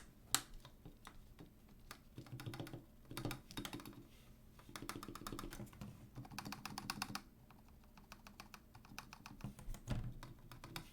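Stabilizers are tested on a custom 75% keyboard with a Singa polycarbonate case and Roselio switches: the spacebar and larger keys are tapped in quick clustered bursts of crisp clacks with short pauses between runs.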